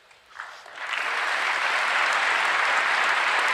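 Audience applause at the State of the Union swells from a few scattered claps into a loud, sustained ovation that fills the chamber and stays steady to the end.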